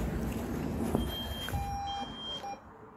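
A few thin electronic beeps chirp faintly over a loud rumbling background hum in a hydraulic lift at a retail park, the tones short and spaced irregularly.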